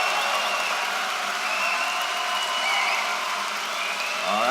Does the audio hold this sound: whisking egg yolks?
no